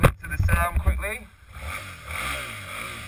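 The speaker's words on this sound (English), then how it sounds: "Much more industrial, you can hear it's that twin engine." A Suzuki Gladius 650 V-twin motorcycle with a 10,000 RPM redline revs up close, its engine note rising and falling in a couple of quick blips before settling into a rough, industrial idle.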